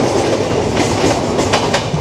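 The 13054 Kulik Express rolls into Howrah station, a dense, steady rumble of wheels and carriages with faint clickety-clack beats rising over the constant roar, close and loud throughout.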